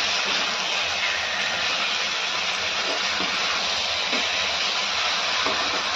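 Mutton curry masala sizzles in a pan over low heat, a loud, dense, continuous hiss that stays unbroken throughout, with no voices.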